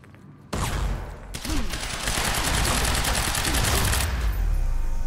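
Rapid automatic gunfire rattles in Quantum Break in an industrial area. It starts abruptly and continues as dense, loud, sustained bursts, with someone briefly shouting over them.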